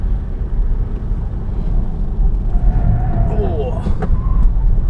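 A steady, loud low rumble of road and drivetrain fills the cabin as a Cadillac ELR coasts through a corner on a track, with faint higher tones rising briefly toward the end.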